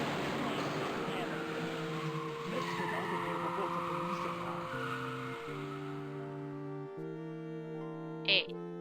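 A car drives in the Indiana Jones and the Fate of Atlantis video game, with steady synthesized engine tones that step up and down in pitch under a hissing background, ending with a brief high chirp.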